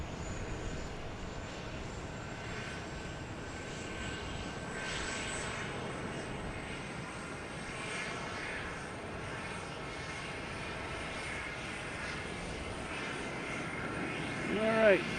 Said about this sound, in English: Oh, Lufthansa is moving, the A380.